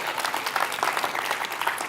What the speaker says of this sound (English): Can we make some round of applause?